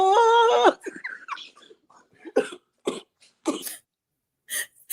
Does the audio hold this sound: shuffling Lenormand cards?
no